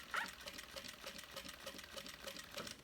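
A sewing machine stitches slowly around the curves of a fabric cell phone bag, running in a steady, even mechanical rhythm close by, with brief pauses as the stitching follows the curve.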